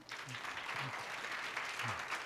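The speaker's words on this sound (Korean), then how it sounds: "큰 박수 부탁드립니다" University lecture audience applauding a career counselor after a talk, a quiet, steady patter of many hands clapping, distant and soft, with low voices faintly underneath.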